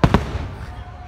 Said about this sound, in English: All these fireworks are nothing.